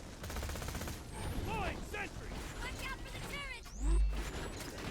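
Automated turrets firing in the video game Borderlands 2, Axton's turret build, rapid bursts of gunfire mixed with game effects and a heavy thump, while a voice talks over it.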